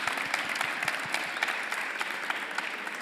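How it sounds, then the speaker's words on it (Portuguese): Audience applause after a talk, many hands clapping in a dense, fairly soft patter that holds steady from start to finish, with no voices. "acho que merece uma salva de palmas"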